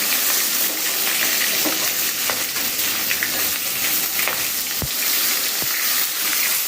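Steady loud sizzling of shing (stinging catfish) and onions frying in a pan, with occasional scraping stirs and metallic clinks over the constant hiss.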